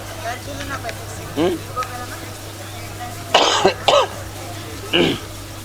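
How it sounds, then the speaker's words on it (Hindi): A few short, harsh coughs and throat-clearing bursts, fairly close, with quieter murmuring and a steady low hum in between. "खांसी आई रही"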